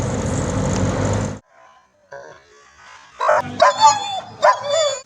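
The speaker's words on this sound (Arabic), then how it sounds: "في كلب غبي قوي واقف قدامه" Dog barking in a street, with a burst of loud, sharp barks and yips near the end after a short noisy stretch and a quiet pause.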